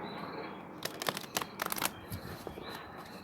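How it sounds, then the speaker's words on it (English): Tarot cards shuffled by hand indoors, heard as a short cluster of crisp, rapid riffling bursts in the middle of the clip. The sound is fairly quiet, close and dry, over a faint steady background hiss, with no talking. "I feel like I need to shuffle once."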